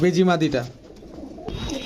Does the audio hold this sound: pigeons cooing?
yes